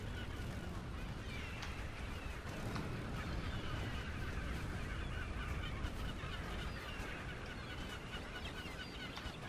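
Seagulls squawk in a flock in the video game Brütal Legend, a steady chorus of harsh honking bird calls running throughout at moderate loudness over continuous background noise.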